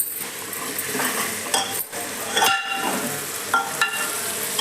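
Potatoes and green beans cooking in a pan at home, with steady sizzling broken by repeated stirring and scraping of a utensil against the pan, close and fairly loud throughout.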